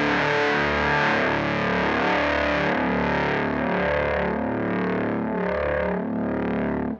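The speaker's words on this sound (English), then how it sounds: "I'm gonna turn on my fuzz" An electric guitar played through a fuzz pedal gives a thick, saturated, buzzing tone with sustained chords changing throughout, loud and continuous before cutting off at the end.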